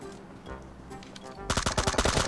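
Automatic gunfire bursts out in PUBG Mobile, a rapid rattling volley arriving loud and close after a quieter stretch of game ambience.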